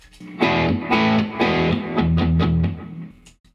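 Overdriven electric guitar on the bridge pickup strikes a rhythmic run of power chords through an amp with reverb and delay, each hit thick and sustained, with no talking.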